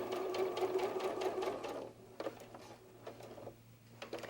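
Sewing machine stitching fabric for a fox softie along a quarter-inch seam, a quick rattling run of needle strokes close by that stops, then shorter bursts and clicks follow over low background hum.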